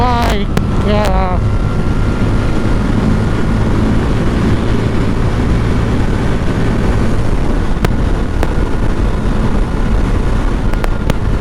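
A Bajaj Dominar motorcycle at a riders' meetup in Bihar revs loudly up close, the engine roaring steadily under wind buffeting with a few sharp pops near the start.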